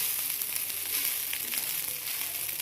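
Rice sizzles steadily as it fries in oil rendered from dried tamban fish, a dense, continuous crackle that stays close and loud throughout with no voices.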